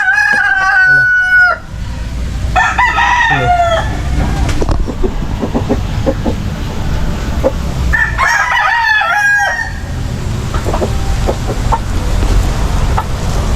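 Backyard chickens in the countryside with several roosters crowing loudly and close by, repeated cock-a-doodle-doos over steady clucking and farmyard background noise.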